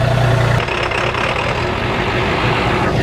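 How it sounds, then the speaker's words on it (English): A tractor engine idles and rumbles steadily at close range on a homestead, a low continuous drone with no pause, after a brief louder tone at the start. "I need you to take the tractor back up for me"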